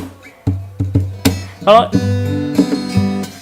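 A cheap acoustic guitar played up close, a few plucked and strummed chords with percussive attacks and a short sliding run, no voices.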